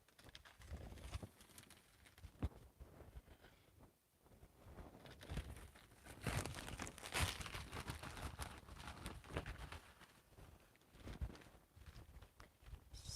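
Paper crinkling and rustling with scattered crisp handling noises, close by and fairly steady throughout, with a few sharper rips and taps, no speech.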